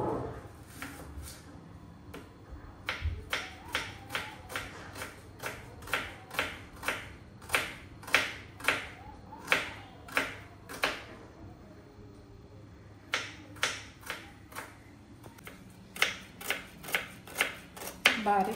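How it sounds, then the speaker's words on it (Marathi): Knife chopping vegetables on a board, a steady run of crisp close taps in quick rhythmic bursts with a brief pause midway, under faint background talk. "कापून टाकूया भाज्या."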